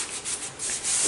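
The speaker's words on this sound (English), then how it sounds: "We also happen to be in the process of sanding down the speaker" A wooden KLH speaker box being sanded down by hand, with steady, close rasping strokes that swell and ease in a continuous rubbing texture and no talking.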